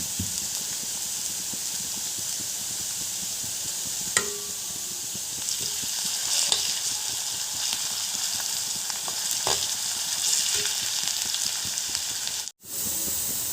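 Onion with ginger and garlic fries in a pan, giving a steady, close hiss of sizzling oil with a few faint clicks and scrapes scattered through, and no talking.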